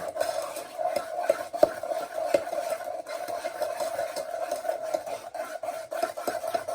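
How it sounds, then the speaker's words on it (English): Blonde brownie batter being stirred with an added egg, a steady close scraping and rubbing of utensil against bowl with small clicks, continuous and moderately loud with no talking. "we're just gonna mix that in until it's all combined thoroughly"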